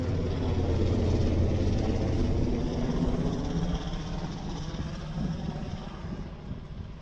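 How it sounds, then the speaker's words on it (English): A helicopter flies over bushfire country in New South Wales, giving a steady broadband rotor and engine rumble that fades slightly toward the end, with no talk. "Sorry, chopper put me off my game."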